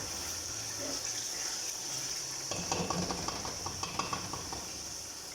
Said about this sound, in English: So we'll keep frying and turning it until we taste and see that that tangy taste has disappeared.